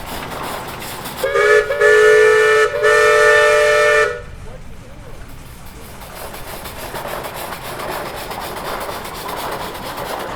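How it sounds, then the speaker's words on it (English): A 1915 Case 50 horsepower steam traction engine at a steam and gas threshing bee sounds a loud, sustained steam whistle for about three seconds with a brief dip in the middle, then the whistle stops and outdoor show ambience continues. "We have a 1915 Case 50 horsepower steamer."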